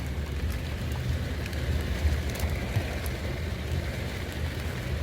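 Steady rain falls in Dalat, Vietnam, a soft, even wash of patter with faint scattered drops, continuous and fairly quiet throughout.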